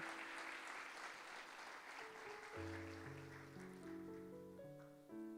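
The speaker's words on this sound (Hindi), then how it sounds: "मैं चाहूँगा ज़ोरदार तालियां बजाएं और खुदा के नाम को हम इज़्ज़त और जलाल दें" A church congregation at a Sunday service claps loudly and steadily in a dense, even wash, then keyboard chords swell in beneath as the applause carries on.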